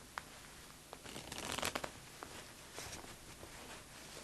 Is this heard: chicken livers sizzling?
no